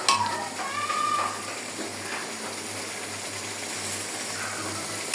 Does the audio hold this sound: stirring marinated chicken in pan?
yes